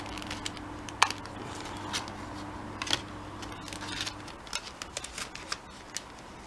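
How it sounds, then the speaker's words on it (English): Packets of metallic foil for alcohol ink crafting are torn and handled at close range, with sharp crinkling and crackling bursts over a quiet room and a steady low hum that drops away partway through. "I bought these foils the other day for doing the alcohol ink stuff, so I'm going to open these"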